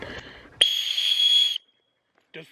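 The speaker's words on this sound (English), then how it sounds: "Does the whistle work?" A survival kit whistle is blown once in a loud, shrill, steady blast lasting about a second, with brief talk before and after.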